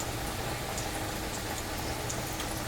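Battered chicken frying in hot oil, a dense, even crackling sizzle with scattered pops, steady and moderately quiet throughout with no voices.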